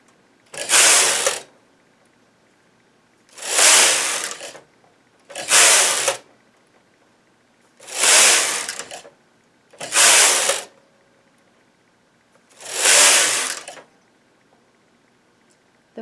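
A domestic knitting machine works a diamond-patterned afghan blanket, its carriage making six separate raspy mechanical passes, each about a second long with short quiet gaps between them, close and alone without talk.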